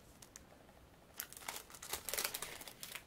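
Tape being handled and peeled on metal cutting and embossing dies, soft crinkling and tearing that starts faint and grows busier and louder in the second half, close up with no talking.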